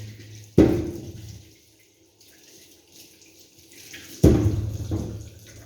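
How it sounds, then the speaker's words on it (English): Oranges are rinsed under running tap water. The splashing water comes in two loud, close bursts, and between them there is a quieter dribbling stretch. "So now, I finished rinsing my oranges."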